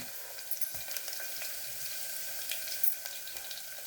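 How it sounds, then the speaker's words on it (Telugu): Garlic fries in oil in a pan with a faint, steady sizzle and occasional small pops and stirring scrapes, quiet and close, with no talking. "తర్వాత ఇలా మంచిగా నూనెలో వేగాలి."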